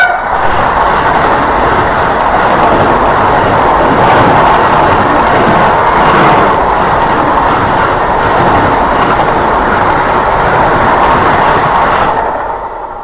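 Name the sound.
MEMU passenger train arriving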